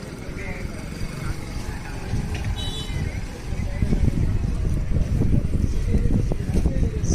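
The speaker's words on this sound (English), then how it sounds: "The wind is much more than what we see on the mainland." Strong sea wind buffets the microphone on a beach at Madh near Mumbai, a steady broadband roar that grows louder through the second half with low gusty rumble and no speech.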